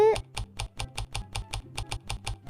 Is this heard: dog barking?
no